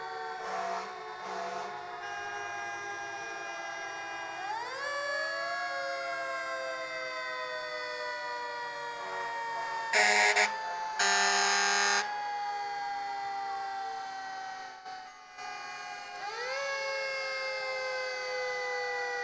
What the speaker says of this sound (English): a couple more fire engines coming through that intersection you're looking at